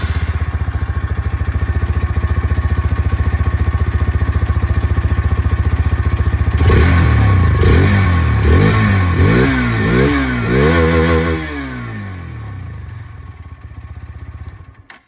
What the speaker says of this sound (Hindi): दोनों ही बाइक की यहाँ पर जो आवाज़ है वो आप लोगों ने सुन लिया